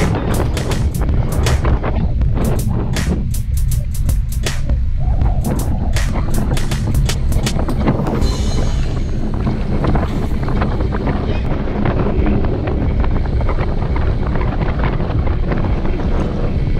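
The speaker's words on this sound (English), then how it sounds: "it's very windy" Strong wind roars steadily into the microphone during an outdoor group bicycle ride near New Waverly, Texas, a loud continuous broadband buffeting that runs the whole time with brief sharp knocks early on.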